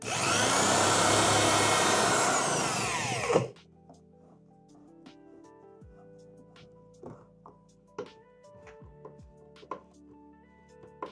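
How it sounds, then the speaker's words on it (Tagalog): A power drill whirs loudly and steadily for about three seconds while mounting floating wooden shelves on a wall, then stops, leaving quiet clicks and small knocks of handling. "Gamitin ulit natin ng ating drill"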